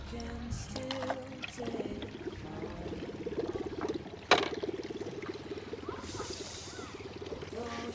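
Water trickles and gurgles steadily through a small play channel at a science centre, close by, with a brief knock partway through and faint voices in the background.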